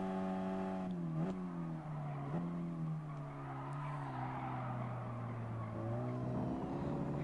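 A small 250-horsepower car racing in Gran Turismo Sport, its engine holding a steady drone that dips and climbs with gear changes, tires squealing faintly through corners at low level.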